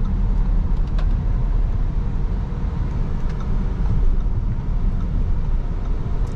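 Audi e-tron S, a 507 hp three-motor electric SUV weighing 2.6 tons, accelerating hard from 0 to 100: a steady, loud cabin rumble of road and tyre noise that holds evenly throughout with no engine note.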